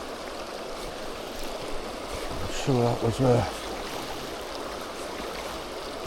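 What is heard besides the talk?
fast river water flowing, River Tweed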